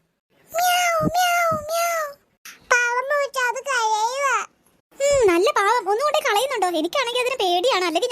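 Loud, close cat meows come in several drawn-out, wailing bursts, separated by short pauses.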